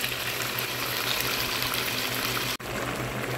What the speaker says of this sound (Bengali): এখন পেঁয়াজের সাথে গোশটা একটু ভালো করে ভেজে নিব